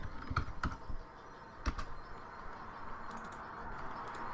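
Keys tapped on a computer keyboard while a folder is named in Unreal Engine, a few quick clicks standing out near the start, then a soft steady background hum.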